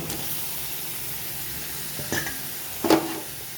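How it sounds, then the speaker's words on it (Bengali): Fried soybean chunks and potatoes dropped into a pan of sizzling spice paste: a steady frying hiss with two short bursts of stirring and scraping near the end, with no talking. "এরপর দিয়ে দেবো ভেজে রাখা সোয়াবিন আর আলু"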